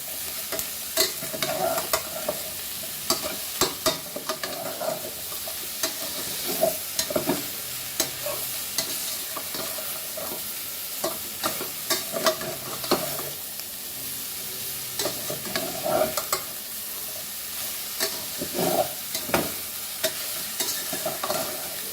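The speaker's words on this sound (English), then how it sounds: "Whatever the pork meat is going to release, in that only I am frying my onions." Steady sizzling of onions frying in fat released from pork meat, without oil, with repeated scraping and stirring sounds from a utensil, close up and without talk.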